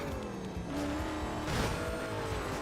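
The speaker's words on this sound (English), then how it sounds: "You can hear the supercharger whine" A heavily modified supercharged race car engine in Need for Speed Carbon roars steadily throughout, its pitch rising and falling with a sharp supercharger whine riding on top, loud and close.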